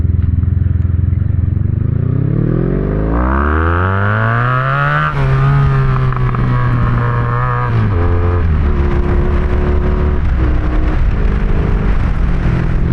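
A 1982 Honda Magna V45 motorcycle with gear-driven cams is ridden close up. Its loud V4 engine revs and climbs through the gears, then settles into a steady cruising drone, with wind noise running throughout and no talk.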